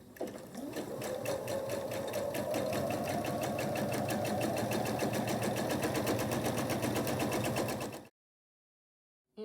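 A sewing machine stitches quarter-inch seams on quilt block pieces, a rapid, even mechanical chatter that runs close and loud for about eight seconds, then stops dead into silence.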